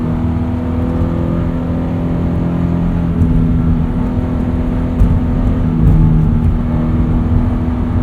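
A Subaru BRZ engine hums steadily from inside the cabin, its drone rising slightly as it accelerates on winter tires, with a constant road rumble underneath.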